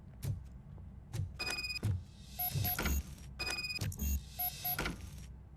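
Locked door being tried in the video game RoboCop: Rogue City: a series of short metallic clunks and rattles from the handle, several distinct knocks with brief electronic tones, fairly close and loud with game ambience underneath.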